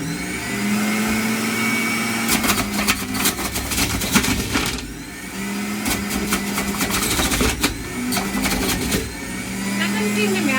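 A juicer grinds carrots, its motor droning loudly with rattling, crunching bursts as the carrots are fed in, pausing briefly before starting again.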